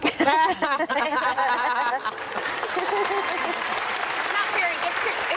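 Studio audience on a daytime talk show claps and cheers loudly, a dense sustained wash of applause with a few chuckles, preceded by someone talking over the start.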